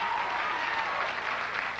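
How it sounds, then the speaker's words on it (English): Studio audience applause during a 1987 television talk show interview, a steady, moderately loud wash of clapping throughout. "Get a round of applause."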